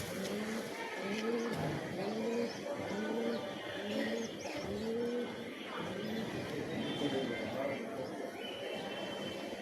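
A male pigeon coos in a series of repeated, rhythmic low calls close by, with faint background noise and a person speaking around it.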